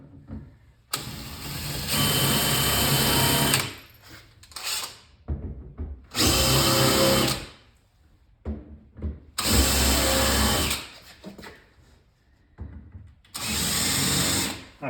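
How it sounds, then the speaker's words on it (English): Power drill fitted with a countersinking bit boring into a Pac-Man arcade cabinet, four loud whirring bursts of a few seconds each separated by short pauses with faint handling noise between. "Get my countersinking bit."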